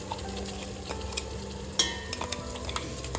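Tomato puree stirred into masala frying in oil makes a soft sizzle under scraping spoon strokes against the pan, with scattered taps and clinks, close and quiet.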